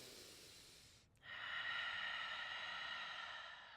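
Deep breaths during a yoga sequence: a short nasal inhale, a brief pause, then a long, close, steady exhale that slowly fades, with no talking.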